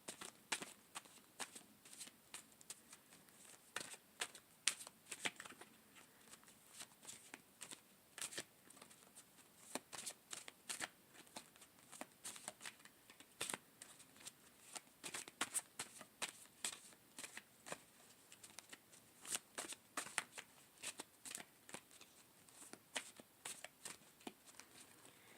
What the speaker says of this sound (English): please bear with me while I go ahead and shuffle for your mid-October 2018 reading